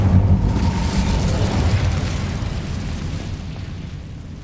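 A fire spell cast in Hogwarts Legacy, a loud rushing, roaring burst with a boomy low rumble that holds steady and slowly eases off over a few seconds, with no talking.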